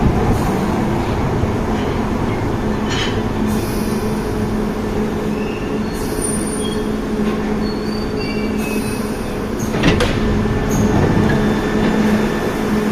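A London Underground Piccadilly line train rumbles loudly at close range, with steady wheel and motor roar, faint high squeals, and a few sharp clicks from the track.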